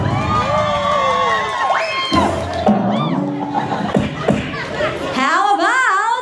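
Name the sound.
crowd cheering and applauding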